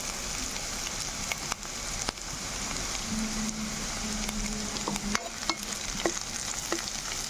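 Curry leaves drop into hot oil in a pan for bendakaya pulusu after softened onion, a steady close crackling sizzle with scattered sharp pops and a low bubbling hum running throughout.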